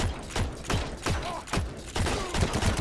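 Rapid bursts of gunfire from a first-person shooter video game, sharp shots cracking in quick clusters with brief gaps between them throughout, fairly loud and with no talk over them.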